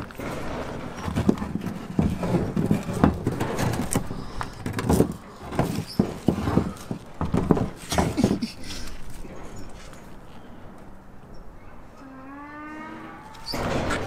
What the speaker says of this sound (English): Or is that a donkey? It's a donkey, bro.